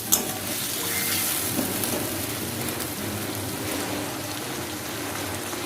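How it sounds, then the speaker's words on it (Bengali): Fish curry masala with green chilli sautéing in a pan for singhi machher jhol: a steady, close sizzle with a constant hiss and no pauses. "এটাকে একটু ভালো করে কষে নেব।"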